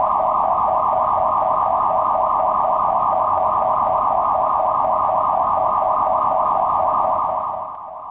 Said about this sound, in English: The abandoned ship alarm sounds like this.